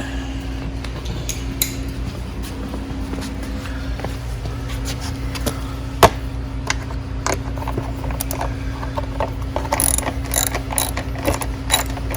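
A ratchet wrench clicks steadily while backing out a 10 mm bolt on the body of a Venom 1300W electric ATV, a fast continuous ratcheting close up with a few louder knocks and no talking.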